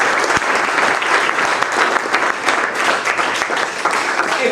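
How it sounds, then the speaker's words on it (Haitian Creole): An audience applauds at a professional orientation session, with loud, sustained clapping from a crowd that runs from start to finish. "Donc, je vais demander nous pour nous applaudir Jessica Généus."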